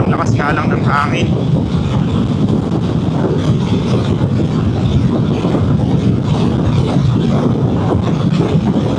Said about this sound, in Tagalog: Sobrang lakas nga lang ng hangin.